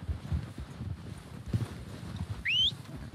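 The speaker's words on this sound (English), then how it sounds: "They're coming down with the horses." Horses approaching in Red Dead Redemption 2, their hooves clip-clopping in a steady walking rhythm at moderate distance, with a brief whinny near the end and no talk.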